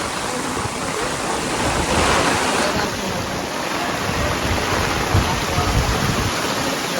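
Heavy rain pours down with floodwater rushing through a village, a dense steady roar that holds throughout, with brief faint voices in the background.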